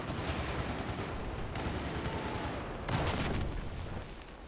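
Gunfire in the video game Battlefield 4, rapid bursts of shots forming a dense crackling barrage that breaks off briefly and then resumes louder before tailing away.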